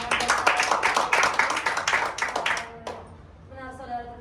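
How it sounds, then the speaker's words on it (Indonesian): An audience at a Christian religious class claps in a rhythmic burst that stops abruptly after a few seconds. A voice speaks briefly afterward. "Kita berikan tepuk tangan"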